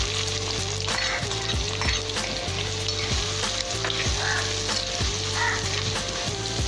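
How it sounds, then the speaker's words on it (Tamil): Onions sizzling and frying in hot oil with Chettinad masala in a pan, a steady loud crackle with stirring scrapes recurring every half second or so throughout, no talk. "வெங்காயம் நல்லா வதங்கணும்."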